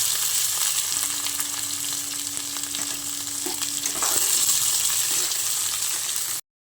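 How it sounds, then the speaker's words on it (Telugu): Broad beans frying with browned onions in a pan, a dense, continuous sizzle that holds steady throughout and cuts off abruptly at the end, close with no talking. "ఇప్పుడు మనం చిక్కుడుకాయలు యాడ్ చేసుకుందాం"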